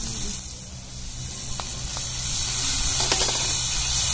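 Mixed vegetables including carrot and tomato sautéing in a pan for a village-style Bhogi bhaji: a steady, bright sizzle that grows louder, with a few clinks of a spoon stirring, close up and with no talking.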